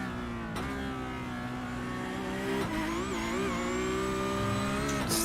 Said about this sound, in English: on board, you can just hear that beautiful whine.